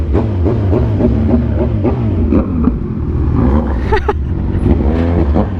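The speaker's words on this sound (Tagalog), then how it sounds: "dinig na dinig yung tambucho ng motor niya. Kahit single pipe lang" Kawasaki Z1000 motorcycle with a single-pipe exhaust, a loud, close, continuous low rumbling drone with pulsing engine firing and shifting revs that rise and fall, heard alone without talking.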